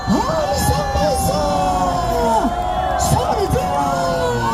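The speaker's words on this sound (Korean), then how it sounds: "다시 한번 함성 발사!" Crowd at an outdoor political rally in Myeongdong, Seoul, shouting and cheering in a loud sustained roar, with many overlapping voices yelling at once.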